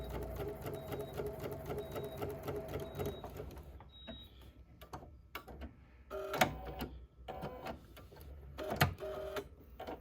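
A sewing machine with a 97D foot stitches quilt-block fabric, running steadily and close for about four seconds, then stopping into quieter handling clicks and rustles.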